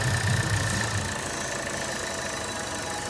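A Chevy Cruze or Sonic 2016 engine idles close by after an engine swap, with a steady low rumble and faint mechanical ticking. The sound is a little rougher at first, then settles.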